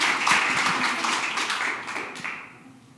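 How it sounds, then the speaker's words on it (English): An audience at a medical presentation claps briefly, a modest round of applause that fades out toward the end. "Round of applause, because I know Karen likes applause."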